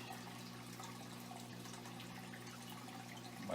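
Water running steadily through an aquarium siphon tube as it drains the tank among rocks, a constant low gurgling flow with a faint hum, ending in a short louder slurp.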